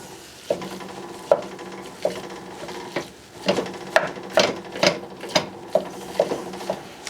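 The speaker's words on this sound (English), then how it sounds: "we're going to start breaking up the ground beef here" Ground beef frying in a pan and broken up with a wooden utensil, rhythmic scraping knocks every half second or so over a steady sizzle, close and clear.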